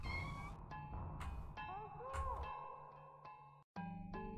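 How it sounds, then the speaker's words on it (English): Meows from a cat in the video game OFF come in repeated short calls over a steady game soundtrack, with brief sound effects and one momentary dropout. "I am meowing at the top of my lungs,"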